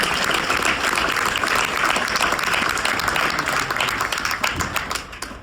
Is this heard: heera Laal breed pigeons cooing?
no